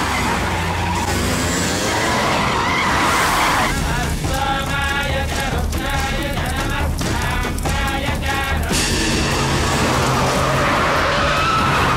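A car in a film scene roars loudly with squealing, skidding tires as it tears away, engine noise dense and close throughout.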